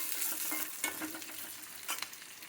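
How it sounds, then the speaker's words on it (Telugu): A tempering sizzles in a pan for a drumstick stir-fry, with steady frying hiss and a few stirring scrapes and clinks close by. "ఇలా పోపు వేసుకొని"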